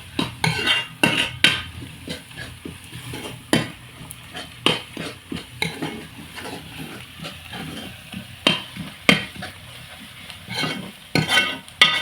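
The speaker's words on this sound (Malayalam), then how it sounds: "നന്നായി വഴറ്റി വരുന്നത് വരെ നമുക്കിതിങ്ങനെ മിക്സ് ചെയ്തുകൊണ്ടിരിക്കാം" Chicken roast masala being stirred and sautéed in a pan over a wood-fire stove, with repeated scraping spoon strokes against the metal over a steady, close sizzle, and no talking.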